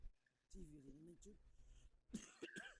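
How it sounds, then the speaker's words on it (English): A preacher coughs mid-sermon: he speaks briefly, then after a pause a cluster of harsh, throat-clearing coughs bursts out close to the microphone. "I am coughing a lot"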